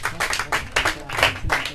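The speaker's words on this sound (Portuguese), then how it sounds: "Muito bem, palmas." Applause at a Portuguese quiz competition final, a short burst of clapping from a small group with distinct, uneven bursts of hand claps, fairly close and loud.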